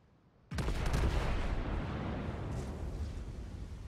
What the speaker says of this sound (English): firing his guns at enemy Fuso, who is foolishly showing his broadside